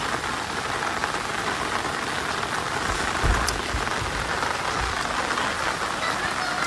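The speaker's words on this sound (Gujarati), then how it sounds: "આવો કઈક વરસાદ પડે" Steady rain falls on a surface in a Gujarati village, a dense continuous patter heard up close and alone, with a brief heavier burst of drops midway.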